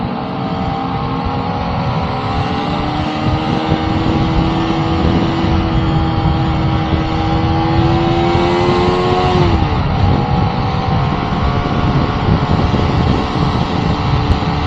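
A car drives along uncrowded roads in Marikina, its engine a steady loud hum close by, with the pitch rising gradually and then dropping sharply partway through as it shifts, then settling into a continuous drone.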